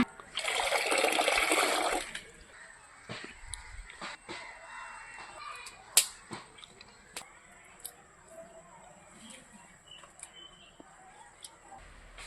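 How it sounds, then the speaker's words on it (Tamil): Water is poured into a cooking pan for a country-chicken egg fry, a loud rushing splash lasting about two seconds, followed by quiet kitchen clinks and taps. "தண்ணி ஊற்றிக்கலாம்."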